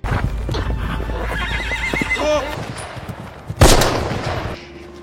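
A horse ridden by a Nazi officer in a World War film scene gives a loud, wavering neigh amid hoof clatter and rumbling ambience, followed by a sharp gunshot-like crack near the end.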